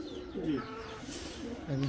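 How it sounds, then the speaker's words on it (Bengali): A large red khaki female pigeon coos softly a few times, its low throaty calls fairly quiet and close against faint background noise. "অনেক বড় সাইজের একটা লাল খাকি মাদি কবুতর"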